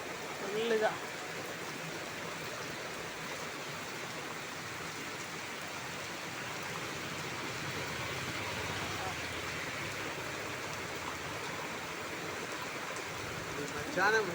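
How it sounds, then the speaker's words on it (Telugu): Heavy rain pours in a dense, steady hiss that fills the whole stretch at an even loudness. A voice speaks briefly at the start and end. "ఫుల్ వర్షం, ఫుల్ వర్షం."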